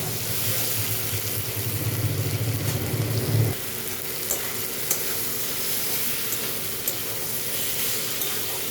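Chicken mince and potatoes sautéing in a pan, a steady close sizzle with stirring scrapes, louder at first and then settling into a softer, even frying hiss.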